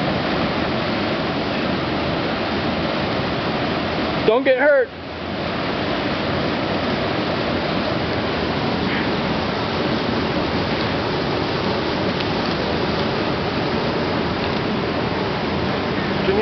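Constant roaring rush of a glacier-fed waterfall beside a rock wall fills the scene, loud and steady, with a brief shout from a person partway through.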